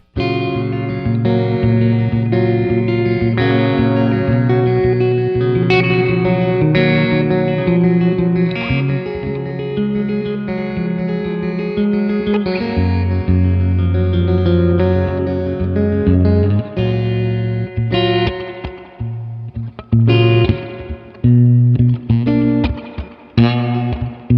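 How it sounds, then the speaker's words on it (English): Electric guitar played through a Strymon Blue Sky reverb pedal set to spring reverb, sustained chords and notes ringing with a lush, continuous wash of reverb tail, loud and close with no talking. "And the Blue Sky, we all know it. It's on a spring reverb setting."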